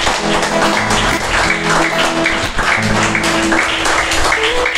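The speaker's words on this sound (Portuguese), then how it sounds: "Palmas para Ele" A church congregation claps for Jesus during a service. The applause is loud and continuous, with sustained musical tones and some voices mixed in.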